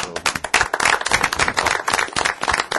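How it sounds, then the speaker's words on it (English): An audience at a parish council meeting breaks into close, loud clapping with individual sharp hand claps distinct in an uneven burst, no speech over it. "everybody you see here deserves a big hand of applause"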